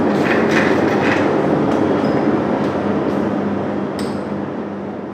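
A lab centrifuge spinning a culture at 4000 rpm, producing a loud, dense, steady whirring roar that tapers slightly toward the end, heard close with no speech.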